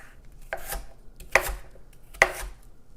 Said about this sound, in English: The first thing we're going to do is peel and chop about 1 cup of sweet potato.